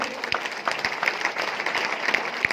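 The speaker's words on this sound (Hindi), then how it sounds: "हम चाहेंगे तीनों अचीवरों के लिए एक बार हाथ उठकर जबरदस्त तालियां आप लोग बजा दें।" Audience claps for three achievers at a business gathering, a steady mid-loud round of applause with a few sharper individual claps standing out.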